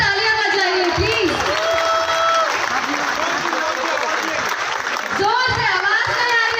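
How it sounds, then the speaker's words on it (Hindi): Audience applause at a prize distribution event, sustained clapping from a crowd with a voice speaking over it throughout. "उनके लिए जोर से तालियां बजाइए प्लीज"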